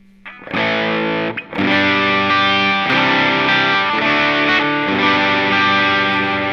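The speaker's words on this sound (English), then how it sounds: "Now I'm gonna go back to that green screamer sound that I had." An overdriven electric guitar through a Kemper Profiler Player with a green screamer overdrive tone rings out with thick, sustained distorted chords after a brief quiet start, loud and close, no talking.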